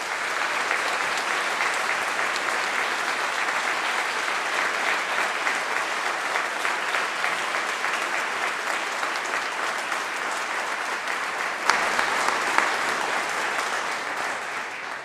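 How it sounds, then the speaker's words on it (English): At a winter graduation ceremony at the University of Reading, a large audience claps in a sustained, even wave of applause that fills the hall for the full length with no voices over it. "give all of you a massive round of applause"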